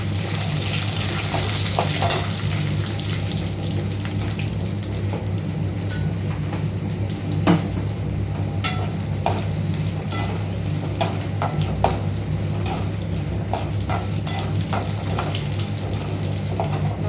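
Dried red chillies fry in oil for a lemon rasam tempering, giving a steady sizzle and crackle with scattered sharp pops over a constant low hum. No one speaks.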